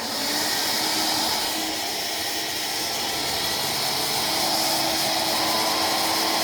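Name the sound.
WindTunnel Air cordless vacuum cleaner running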